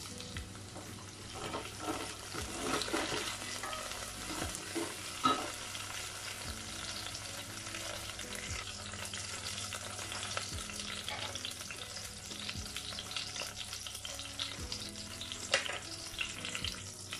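Coriander fries in a pot of oil for plain biryani (kushka), giving a steady close sizzle with occasional stirring clinks and scrapes and no talk.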